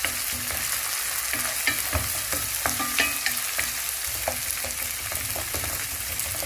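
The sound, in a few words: mixing ginger garlic paste frying in pan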